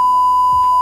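A single steady censor beep, loud and alone, covering a spoken name for just under a second.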